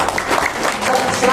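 Brief burst of audience applause at a business seminar, dense clapping from a room of attendees lasting only a moment.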